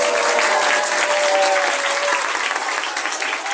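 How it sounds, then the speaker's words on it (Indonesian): An audience at a humorous religious sermon in a mosque prayer room in Kebumen bursts into loud, sustained applause. The dense clapping from many hands fills the whole moment and carries on without a break. "Tepuk tangan untuk Indonesia."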